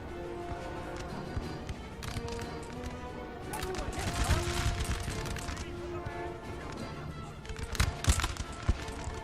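Infantry muskets fire volleys in a Napoleon Total War battle, dense crackling bursts rolling across the field in uneven waves, swelling louder near the end, with a voice talking over the gunfire.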